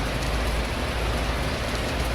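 Rain drips through a leak into a basin indoors during a rainstorm, heard as a dense, continuous patter of water close by with no voices.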